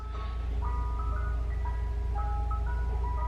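An ice cream truck outside a house plays its chiming jingle, a clear looping tune of bright tones over a steady low engine rumble, heard moderately near with no talk.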